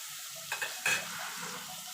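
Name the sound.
eggplant pieces frying and being stirred in a pan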